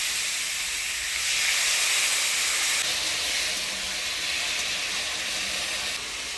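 Steady loud hiss and steam as a little water hits a hot pan with turmeric, salt and spices for a village-style rohu fish curry, continuous and close with a brief swell partway through.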